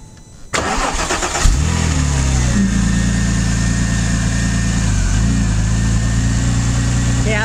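A water-cooled Porsche 996 engine starts up and settles into a steady, smooth idle with a low continuous hum, close by and uninterrupted.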